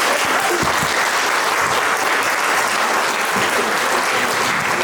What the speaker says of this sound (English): please put your hands together for Sally